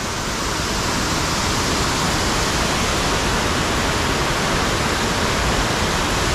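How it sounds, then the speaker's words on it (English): Waterfall at South Lake Tahoe heard up close from the rocks beside it, a loud, constant broadband roar of rushing water with no breaks and no voices. "I've never been close to a waterfall like this."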